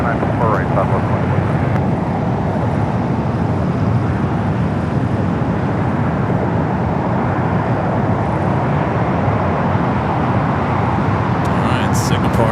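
A Singapore Airlines jet taxis at Los Angeles International Airport, a steady broadband engine roar holding throughout, with a voice talking over it.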